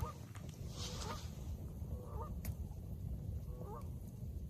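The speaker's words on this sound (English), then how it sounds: "I still hear those Canada goose over there." Canada geese honk from somewhere across the water, several short calls in three loose clusters, distant and fairly faint over a steady outdoor rumble on a spring island evening.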